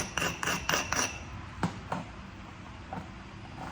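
A hammerstone strikes Tallahatta quartzite in a short series of sharp clicking taps during flintknapping, followed by a few fainter knocks.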